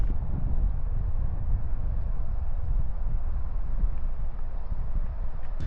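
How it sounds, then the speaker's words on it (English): Wind gusts across an open campsite among vans and tents, a steady low rumble and buffeting against the microphone with no break. "Wind's picking up."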